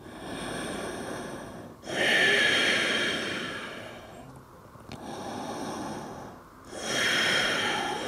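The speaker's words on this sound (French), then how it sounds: "Des respirations Ujjayi fluides." Ujjayi breathing during a hip-focused vinyasa yoga session: slow, audible oceanic breaths, three long hissing exhales and inhales in steady rhythm, close and clear with no talk.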